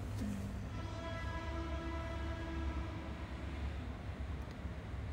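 A train rumbles steadily past, a continuous low roar with a faint tonal whine, moderately loud and unbroken throughout.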